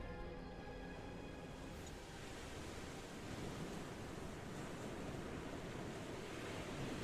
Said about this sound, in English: The crashing waves gleaming beneath the orange sky